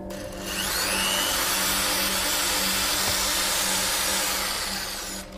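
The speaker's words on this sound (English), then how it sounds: "I've got a piece of wood here we can drill a hole in." A power drill bores a hole in a piece of wood, a continuous whirring drone that spins up, holds steady for several seconds and winds down, with no talk over it.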